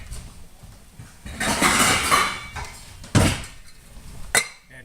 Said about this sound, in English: This one needs a lid. Let me grab a lid.